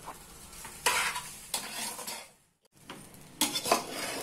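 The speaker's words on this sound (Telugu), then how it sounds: "ఈ విధంగా బాగా కలిసేటట్టు కలిపాను" Spoon or spatula stirring okra fried rice mixed with roasted gram powder in a pan, scraping in three close bursts of rough, gritty strokes separated by a brief pause, with no talk.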